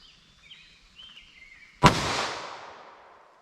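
A single sharp 9mm gunshot from a Fiocchi CovertX round fired through a 3.2 inch barrel, loud and close, ringing out briefly after a stretch of quiet outdoor background with faint birdsong.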